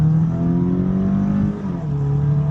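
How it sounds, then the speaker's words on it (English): A car with a misfiring engine revving hard in a full-throttle launch from a light, a loud close droning engine note that holds steady and dips slightly midway. "Y'all ready to do a full throttle pull?"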